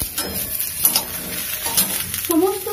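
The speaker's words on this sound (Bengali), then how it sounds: "শিমগুলো দিয়ে একটু ভাজা ভাজা আমি করে নিচ্ছি। এরপর আমি দেবো আলু দিয়ে দিলাম," Beans and potatoes fry in a pan with a close, steady sizzle, while a utensil scrapes and stirs through them in quick strokes.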